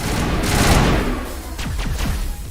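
Assault rifle gunfire in Mass Effect Legendary Edition, a loud dense burst of shots followed by a few separate rapid impacts, close and heavy.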